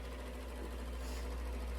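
Robot vacuum cleaner running indoors, a steady, even motor whir with a low hum and no pauses, moderately quiet and continuous throughout.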